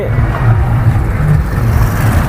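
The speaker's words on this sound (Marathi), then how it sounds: "ही जी गाडी आहे ती सांगोला नगर परिषदेचे सांगोला शहर विकास आघाडीचे उमेदवार मारती बनकर यांच्या प्रचारासाठी" A vehicle fitted with an LED screen for a municipal election campaign in Sangola drives past close by, its engine giving a steady low rumble throughout.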